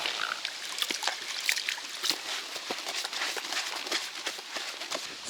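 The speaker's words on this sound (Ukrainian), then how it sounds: "Тепер трошечки ще треба нам води додати." Water is poured and trickled into a groundbait mix being prepared for carp fishing outdoors, making a close, uneven splashing and dribbling with small crackling bursts.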